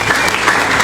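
A church congregation claps loudly and cheers in a full church. The burst of dense applause is close and sustained, mixed with crowd voices.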